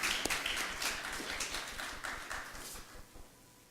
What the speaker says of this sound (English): so let's give them one more round of applause